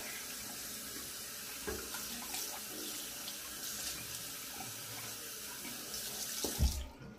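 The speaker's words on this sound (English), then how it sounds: "I got warm water, I'm going to just give it a soak" Warm water running steadily from a tap into a sink to soak a hat, a constant close splashing rush for several seconds, with a brief clunk near the end.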